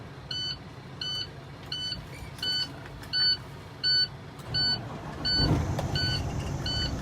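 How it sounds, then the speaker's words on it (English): During an in-cab pre-trip check, a truck's dashboard gives a run of evenly spaced warning beeps, then the engine cranks and catches near the end, a brief rumbling burst as the beeping continues. "So I'm gonna start the truck."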